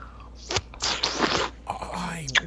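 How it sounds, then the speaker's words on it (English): A crunchy pickle cracks under a bite, then a longer crisp crunching burst of chewing follows, close and fairly loud with brief pauses and faint vocal sounds around it. "The second bite of the pickle is where it's at"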